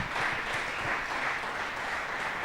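Crew members and spectators clap to welcome a Hardrock 100 ultramarathon runner into the Silverton gym, a sustained, fairly even wash of applause from a crowd at moderate distance, with no voices standing out.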